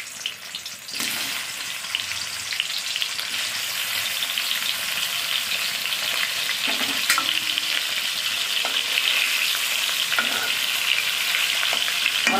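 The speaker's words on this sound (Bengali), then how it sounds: "অল্প অল্প করে মাছ দিয়ে মাছটাকে ভেজে নেব।" Khoira fish pieces frying in hot oil in a Bengali home kitchen, a steady loud sizzle that swells as the fish goes in, with occasional stirring clicks and no talk.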